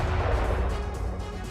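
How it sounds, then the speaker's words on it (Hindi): Israeli navy missiles fired at Hamas positions near Gaza produce a loud, continuous low booming roar of heavy fire and blasts, dense and rumbling with no clear gaps. "इजरायली नेवी ने हमास के ठिकानों पर मिसाइलें दागी।"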